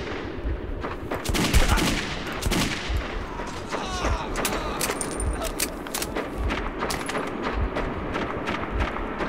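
Sustained gunfire in the Metro 2033 shooter, many rapid sharp shots and automatic bursts spread across the whole stretch, loud and close, with some faint voices mixed in.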